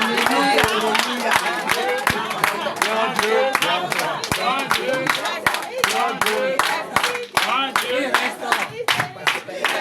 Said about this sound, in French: Applaudissez mon Dieu pour moi, applaudissez le Dieu.